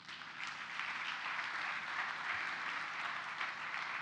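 A church congregation applauds the Lord with sustained, even clapping from many hands, fairly distant and soft, without pause.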